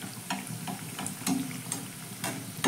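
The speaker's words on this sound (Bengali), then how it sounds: "আমি এবার এখানে কয়েকটা পুরি তেলের মধ্যে ছেড়ে দিচ্ছি" Puris made with jackfruit dropped into hot oil, giving soft crackling and bubbling sizzle with light clinks of a slotted spoon at intervals, close and fairly quiet.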